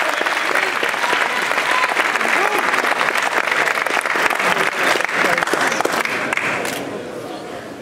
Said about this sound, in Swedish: Stora applåd då, Thomas Karlsson!